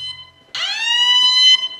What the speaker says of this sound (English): There's the timer. It's been 15 minutes.